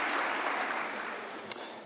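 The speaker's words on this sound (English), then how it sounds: "Let's give another round of applause." Audience at a law career fair gives a brief round of applause, a soft even patter of clapping that fades slightly, with one sharper clap near the end.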